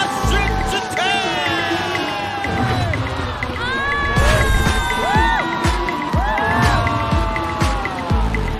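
Studio audience cheering, whooping and shouting on a Chinese variety show set, as a costumed guest is brought out; a loud, continuous crowd roar with excited voices rising over it.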